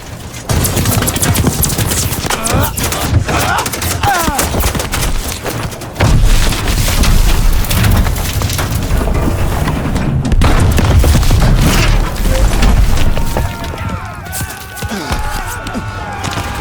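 Machine guns rattle in a Second World War battle scene, loud sustained bursts mixed with heavy booms and explosions, with shouting voices heard over the gunfire.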